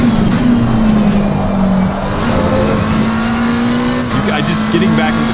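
A Ford Mustang race car in Assetto Corsa Competizione holds a loud, steady engine drone with slight pitch dips as it shifts through a lap, while someone talks over it.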